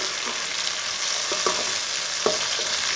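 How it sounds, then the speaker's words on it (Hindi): Finely chopped tomatoes frying in a pan with green chillies and garlic for an aloo gobhi: a steady close sizzle with a few soft stirring clinks and scrapes, no talking. "टमाटरों को भी 3 मिनट तक भून लेंगे।"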